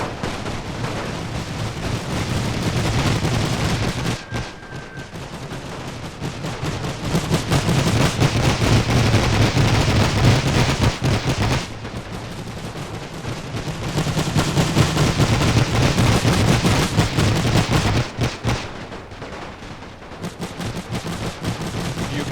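Machine gun fire in The Great War mod, a French-versus-German trench battle, sustained rattling bursts at close range that pause briefly and resume, loud and dense over a steady battlefield roar.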